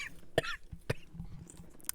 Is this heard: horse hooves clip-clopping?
no